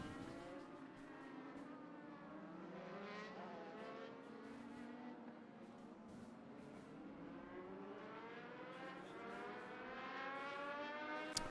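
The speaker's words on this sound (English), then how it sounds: "And the first car on the speedway." A US Legend race car drives a road course at New Hampshire Motor Speedway. The engine drones steadily with revs that rise and fall, faint and distant, and no voices are heard over it.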